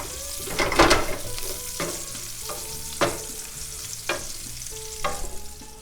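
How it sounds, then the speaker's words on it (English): Garlic sautéing with prosciutto in a pan over medium-low heat, steady sizzle broken by a handful of distinct stirring scrapes and clacks of a utensil, close up, without talk. "Just keep sauteing that till our garlic softens up."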